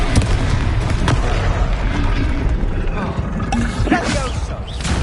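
In Hogwarts Legacy, a Confringo fire spell bursts in a dense, booming explosion, followed by several more blasts and rumbling crackle over about five seconds, with a voice partly mixed in.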